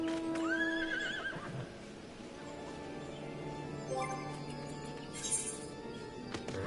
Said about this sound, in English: This is the horse for the boss Garuda.